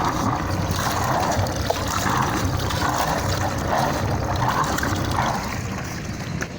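Water gushes and splashes steadily from the cooling system of a running Nanni 21 marine engine on a boat, a loud continuous wash over a low engine rumble.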